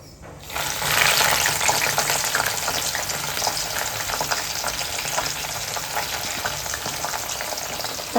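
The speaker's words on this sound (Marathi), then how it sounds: "इकडे मेथी दाणे चांगले उकळलेत तेलामध्ये आता आपण हे फुलं टाकूया जास्वंदाची" Hibiscus flowers and fenugreek seeds in hot oil for a homemade hair oil crackle and sizzle loudly in a dense, continuous frying hiss, with some stirring.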